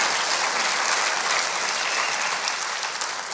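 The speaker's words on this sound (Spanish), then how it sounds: "Denle ese aplauso al Rey bendito." Sustained, dense applause from a congregation at a pastors' retreat in honor of the King, steady and loud throughout with no voices over it.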